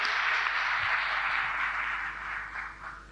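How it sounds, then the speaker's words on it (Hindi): Applause for cooperative women at a village gathering, a soft, steady patter of clapping from a crowd that fades slightly toward the end. "भाई और ताली बजाओ इनके लिए सभी लोग।"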